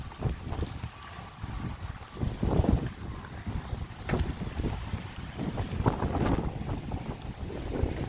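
Gusty wind buffets the microphone over open water, rumbling low and steady with brief louder bursts and no talking.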